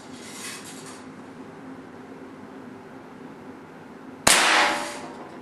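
A single sharp, loud crack from a Daisy Buck BB rifle shot striking a target, arriving abruptly after a few seconds of quiet outdoor background and trailing off briefly.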